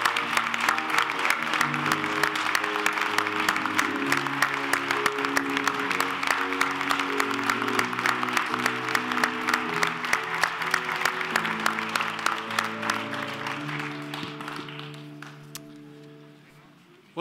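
An audience at a sports hall of fame ceremony in a hall claps loudly and continuously for about fifteen seconds before the applause thins and fades out, with some talk mixed in.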